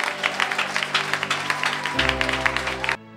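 A congregation at a Christian deliverance service claps for Jesus in quick rhythmic bursts over sustained musical tones, loud and steady before stopping abruptly near the end.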